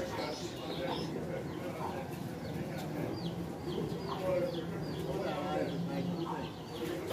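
Racing pigeons in a loft in Sargodha coo and flutter in a steady, busy chorus, with brief bird calls rising over a crowd murmur and voices talking throughout.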